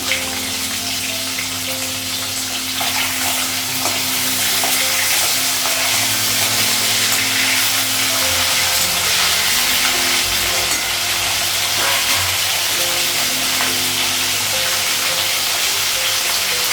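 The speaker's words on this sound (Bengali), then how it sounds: "কড়াইয়ে মাছ লাগিয়ে দিয়েছি, মাছটা ভেজে দেবো।" Fish frying in oil in a wok makes a continuous, even, close-up sizzle and hiss that holds steady from start to finish.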